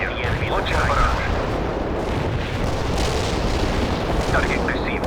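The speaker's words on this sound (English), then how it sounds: "Launching barrage." An artillery barrage in the World in Conflict war game: a continuous roll of heavy rumbling blasts and booms, with radio-style voices heard over the bombardment.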